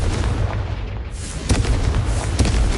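The Confringo blasting spell from the Hogwarts Legacy video game goes off as a booming explosion with a deep rumbling tail, followed by a couple of further sharp impacts, loud and close.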